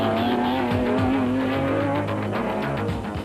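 Ford Ranger race trucks roar around the track at the Carnival City 400, loud close engines with sweeping pitch changes and a tire squeal running through.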